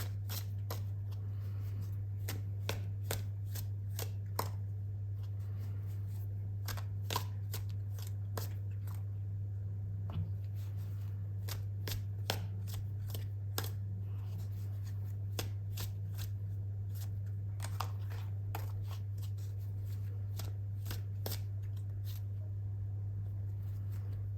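Tarot cards being shuffled and drawn by hand, heard as a long run of crisp, close card flicks and snaps over a steady low electrical hum.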